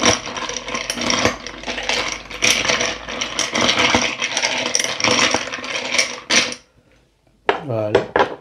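A mojito mixture is stirred in a glass with a metal spoon, dense clinking and scraping against glass and ice, close and busy for several seconds before a brief pause and a short final clatter.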